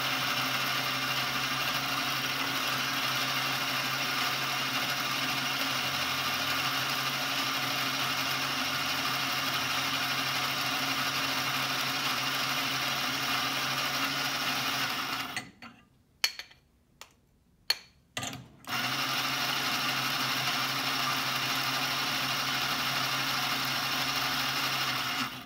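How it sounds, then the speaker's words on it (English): An electric coffee grinder grinds beans for a double espresso, a steady buzzing motor hum that runs for about fifteen seconds, stops briefly with a few clicks and taps, then starts grinding again until the end. "We're gonna grind the coffee."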